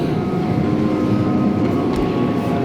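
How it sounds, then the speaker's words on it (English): Theme park train passing at Efteling, a steady low rumbling roar that holds at a constant level, fairly loud and close, with no voices heard. "Here comes another train."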